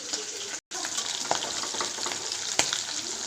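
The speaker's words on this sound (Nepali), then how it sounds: "हाम्रो यो माछाको पिस पाक्दैछ" Piece of fish frying in a pan, a dense continuous sizzle and crackle with a few sharper pops and a brief dropout, close and fairly loud, no talking.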